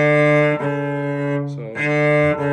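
A cello plays measure five of a song as a few sustained bowed notes, rich and close, with short breaks between the bow strokes and no talking.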